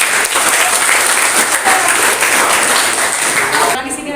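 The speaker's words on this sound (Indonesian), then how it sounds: "Ya, berikan tepuk tangan." A class breaks into applause after a student presentation, a dense, steady wash of many hands clapping at close range that drops off abruptly near the end.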